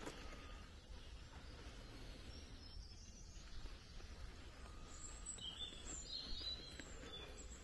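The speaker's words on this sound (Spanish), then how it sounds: "Solo se oyen pajaritos" Faint high chirps from small birds sing in the distance over a quiet outdoor hush at a village sanctuary in Silleda, Galicia, Spain, with scattered calls growing livelier toward the end.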